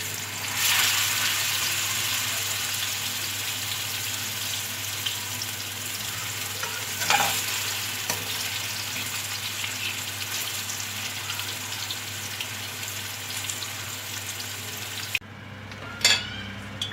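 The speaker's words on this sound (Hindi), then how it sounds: "अब मज़ीद पत्ते जो हैं वो इस तरह से तल लेंगे।" Arvi leaf rolls fry in oil in a kadai, giving a steady, close hiss of sizzling that runs on without a break, with a brief clink near the end as the sizzle drops away.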